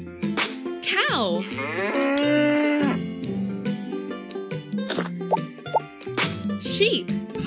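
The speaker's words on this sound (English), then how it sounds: "Cow." A cow gives a drawn-out, wavering moo at close range, set against upbeat children's music with jingling, bell-like accents.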